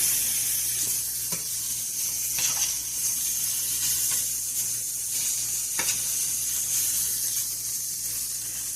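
Beef chunks sear in a stew pot on an electric stove, giving a steady bright sizzle throughout with a few soft scrapes and knocks as pieces are turned.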